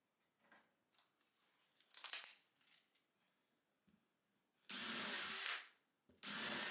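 Power drill with an inexpensive bit boring into wood, short whirring bursts at first, then two loud sustained grinding runs close up, separated by brief pauses.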